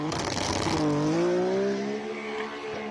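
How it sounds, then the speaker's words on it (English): A Nissan Skyline R34 six-cylinder engine launches off a hill at a classic car speed event in Cape Town, revving hard with a rising, smooth howl that climbs and holds as the car pulls away. "listen to that spectacular sound. You got to love a 6-cylinder."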